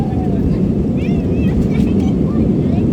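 Airliner jet engines spool up to full throttle on the takeoff roll, a loud, steady low roar with rushing wind noise that fills the cabin without a break.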